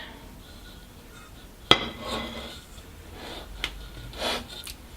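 A frying pan with a drizzle of oil is handled on the hob for French toast, giving one sharp metallic clank followed by softer scraping and knocking as it is tilted and swirled.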